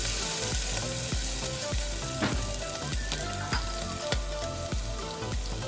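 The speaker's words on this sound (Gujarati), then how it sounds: "બધું સરસ સાતરી લેશું આ રીતે." Grated ginger and green chili pieces sautéing in a pan for chana dal and rice khichdi, a loud close sizzle punctuated by a regular rhythm of spoon scrapes and taps against the pan, no talking.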